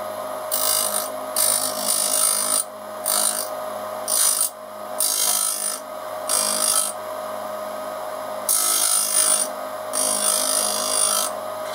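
A lathe cutting tool is ground to an angle against a bench grinder, guided by its tool holder. Bright grinding contacts come in repeated bursts of about a second over a constant motor whine.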